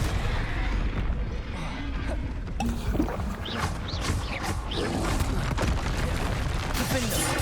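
Confringo fire spells blast in combat in the video game Hogwarts Legacy, with dense booming bursts, crackles and whooshing effects over a loud battle mix, and a voice heard among the noise.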